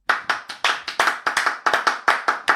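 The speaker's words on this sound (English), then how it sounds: "Round of applause for male tears." A small group clapping in a loose, uneven rhythm, about a dozen sharp close claps in under three seconds with no talking over them.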